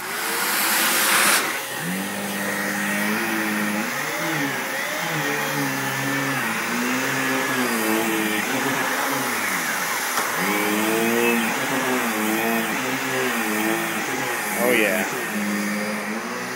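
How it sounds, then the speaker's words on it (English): A Dyson vacuum cleaner runs on a couch to pull up pet hair, a loud steady motor whine whose pitch rises and falls as the head moves, close and continuous. "Dyson on the couch."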